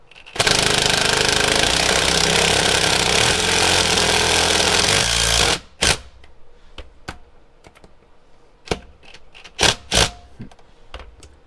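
Impact driver sets a Tapcon screw into concrete in one loud, continuous hammering burst lasting about five seconds, then stops abruptly; scattered sharp clicks and knocks follow in a quieter room.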